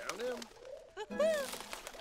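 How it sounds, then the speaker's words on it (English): Loose pigeons or doves coo indoors in a house inside a video game, a few short, rolling calls close by, with voices talking over them. "Now there's just loose birds in their house."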